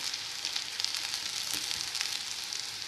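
Curry leaves hit a pan of golden-brown frying onions, giving a steady, bright, hissing sizzle that lasts throughout at close range, with no talking.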